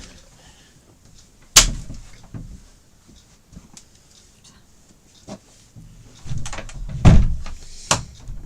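A visitor at the door: a few sharp, loud knocks or bangs spaced several seconds apart, separated by quieter shuffling noises in an indoor room.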